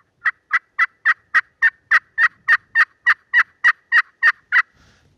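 A friction pot call works out turkey yelps, a run of about fifteen evenly spaced, high-pitched notes that sound close and clear with no other noise behind them.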